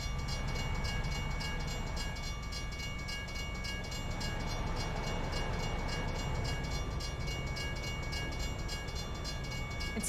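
A train in American Truck Simulator roars past in a constant heavy rumble lasting several seconds, with faint rhythmic rail clatter and no speech.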